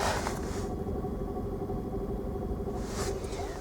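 A Volkswagen Polo engine with a suspected faulty water pump runs at a steady idle with a low rumble and a faint whine, an abnormal noise from the right side, heard up close with no one speaking.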